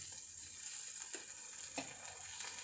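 Chicken pieces seasoned with Kobe fried-chicken mix frying in shallow oil, a faint steady hiss and crackle with a couple of soft clinks from handling, no talking.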